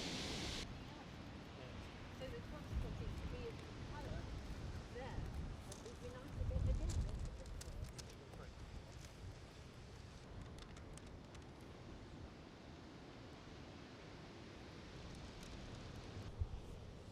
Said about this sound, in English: the wind is actually trying to blow this out of my hand